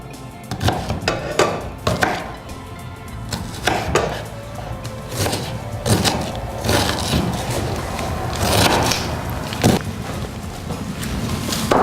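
A knife chops an onion into cubes repeatedly on a cutting board, uneven sharp knocks mixed with clatter of kitchen utensils, fairly close, with no talking.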